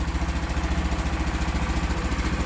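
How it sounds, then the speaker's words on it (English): A tractor engine idles steadily in the background, a low rhythmic chugging pulse that stays even throughout. "the tractor is gone, and you may be able to hear that it is running in the background"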